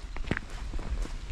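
Footsteps walking along an outdoor path toward Bokadkada waterfall near Virar, a few close steps with a light, uneven rhythm over faint background noise.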